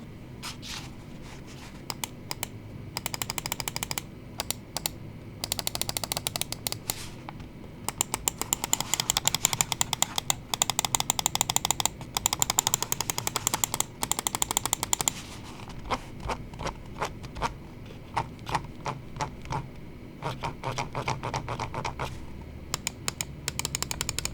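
Rapid bursts of button clicks from a DELUX M900mini Pro 40-gram ergonomic mouse, sharp and close, in quick clusters with short pauses between runs.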